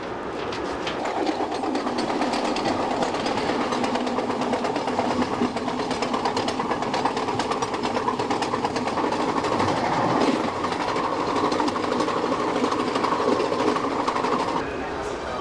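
A passenger train runs on the rails toward Chicago, its wheels giving a steady clickety-clack over a continuous rolling rumble that holds even and moderately loud throughout.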